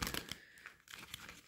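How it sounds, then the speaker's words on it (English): A deck of tarot cards being shuffled by hand, a close, crisp burst of papery riffling and flapping followed by a second short riffle. "Okay, one more shuffle here."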